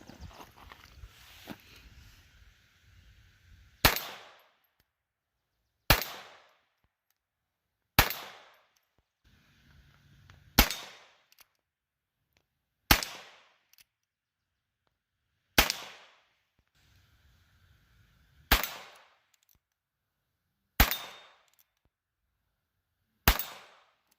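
.22LR rifle fired over a chronograph during a velocity test, nine sharp, evenly spaced shots about two to three seconds apart, loud and close, each with a short decay into near silence.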